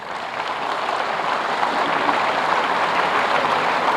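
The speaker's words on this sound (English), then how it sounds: "If I can you have another round of applause for yourself?" Graduates at the 15th convocation of GITAM Deemed University in Hyderabad give a sustained round of applause, a dense, even roar like heavy rain that holds steady throughout with no voices.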